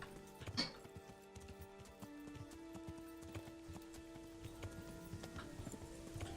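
Horse hooves clip-clop at a steady pace in the video game Kingdom Come: Deliverance, a soft, faint, even run of hoofbeats set against a quiet ambient game background with faint tones.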